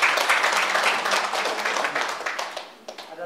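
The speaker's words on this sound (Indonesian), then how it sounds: "aplaus dulu buat Pak Budi" Audience applause for Pak Budi at a product packaging training session, a dense wash of clapping that runs steadily for about three seconds and fades slightly toward the end.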